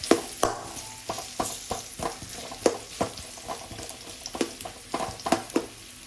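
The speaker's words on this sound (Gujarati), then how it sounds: "થોડુંક એવું ઘી નાખી એમાં ખજૂર નાખી દીધું" Dates fry in ghee for khajur pak as a spoon stirs them in the pan, with repeated sharp scraping strokes at an uneven rhythm over a soft, continuous sizzle, close and clear.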